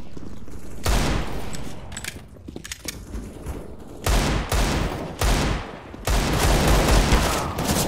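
Counter-Strike: Global Offensive gunfire from a match: loud close bursts of rapid automatic shots in several volleys separated by brief pauses, with game ambience between them.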